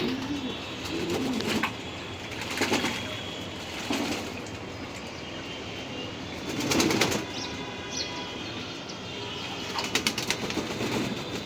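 Racing pigeons bathing in water, with bursts of wing flapping and splashing at intervals over a steady background hum, plus occasional soft cooing.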